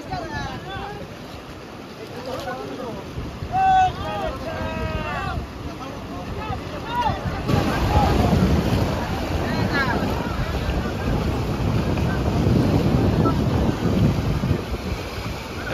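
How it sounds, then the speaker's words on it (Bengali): Floodwater of the swollen Shilabati river at Simlapal, West Bengal, surges over a bridge in rain as a steady, loud broadband rush, building stronger halfway through, with wind buffeting and people talking over it early on. "ব্রিজের উপরে জল আসতে শুরু করে দিয়েছে পুরো, একদম জলটা পুরো বাধা পাচ্ছে এই জায়গাটাতে ব্রিজের উপরে"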